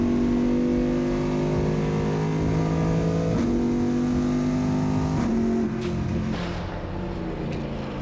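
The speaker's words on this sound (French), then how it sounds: "À Spa, on pouvait croiser des Aston Martin DBR9, Ferrari 333 SP, Dallara SP1, Ferrari 550 ProDrive, des Viper GTSR" Classic endurance race cars such as an Aston Martin DBR9 and Ferrari 333 SP run at the Spa circuit, a loud sustained engine drone shifting pitch through gear changes as the cars pass.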